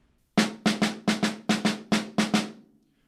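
Close, loud snare drum played with right-hand-lead sticking, a percussion etude phrase of about eight crisp strokes in an uneven grouped rhythm, each snapping attack trailing off in a short buzzy decay.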